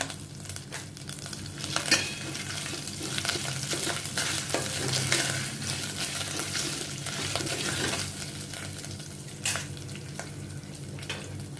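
A slit green chili with ginger paste frying in a pan for Kashmiri pulao, a dense continuous sizzle and crackle with occasional spatula scrapes throughout.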